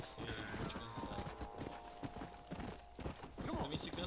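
Hooves of a horse in Red Dead Redemption clip-clopping steadily at moderate volume amid game ambience and some mechanical clatter, with brief talk over it.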